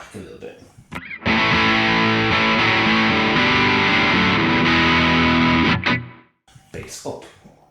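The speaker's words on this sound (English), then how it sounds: "I'm going to turn off the booster and bring the bass back a little bit" Electric guitar through a Fulltone GT500 distortion pedal with the booster switched off, bass EQ slightly raised, plays a loud sustained distorted chord passage for about five seconds, bracketed by brief talk before and after.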